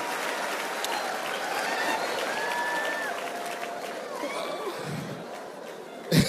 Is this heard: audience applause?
yes